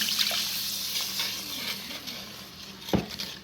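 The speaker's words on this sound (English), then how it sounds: "And then this is 8 ounces of strong coffee." Eight ounces of strong coffee is poured into a bowl of spices for keto brisket chili, giving a soft, steady liquid trickle with a small splash near the end.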